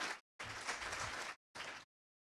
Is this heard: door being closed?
no